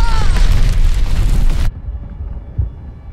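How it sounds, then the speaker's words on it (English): A glide bomb detonates in the Call of Duty: Vanguard multiplayer match, a loud, dense booming blast with a long rumbling roar that cuts off abruptly, followed by fainter low rumbles and one more dull thump. "Enemy's got a glide bomb."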